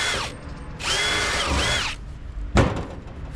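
A power drill whirs in two loud bursts while drilling quarter-inch holes on a trailer, the second rising and falling in pitch, followed by a sharp knock and a quieter mechanical hum.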